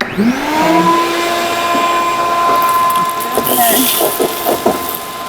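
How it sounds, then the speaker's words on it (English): A vacuum cleaner whines as it spins up and then roars steadily while cleaning out an abandoned 1958 Ford F100 pickup truck, with brief voices near the end. "let's hoover this"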